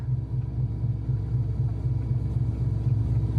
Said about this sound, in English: You got to turn the key and then press the engine start button, and that'll start it.